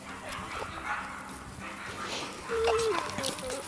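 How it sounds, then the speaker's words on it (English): Several neighbor's dogs outdoors letting out short barks, yips and a whimper at a middle distance, heard under continuous nearby talking. "I guess my neighbor's dogs are out"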